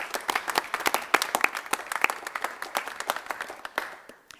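Audience applause at a Louisville public event on the LEAD pilot program, a dense burst of many hands clapping that swells and then tapers off to a close, heard alone without talk.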